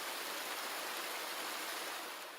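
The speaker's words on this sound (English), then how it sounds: "Waterfall sounds." Steady rushing water of a waterfall, a dense continuous broadband roar with no breaks, moderately loud and alone without voices.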